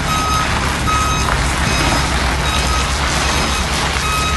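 Truck reversing alarm sounds a steady series of loud, evenly spaced electronic beeps, close by, over a constant engine rumble and broad noise.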